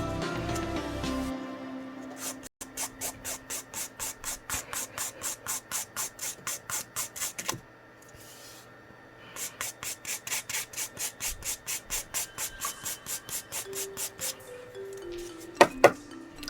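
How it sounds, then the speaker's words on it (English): A nail file rasps back and forth across an acrylic nail in quick, even strokes, a rhythmic series of close scrapes that pauses briefly midway and then resumes. "It needs a little bit more filing"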